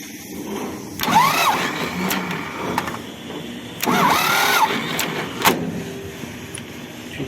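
A tractor engine cranks over twice in separate bursts, each start a short whining churn that catches briefly before falling back, loud and close with quiet gaps between attempts.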